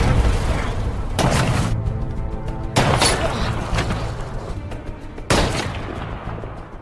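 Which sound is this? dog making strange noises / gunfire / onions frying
gunfire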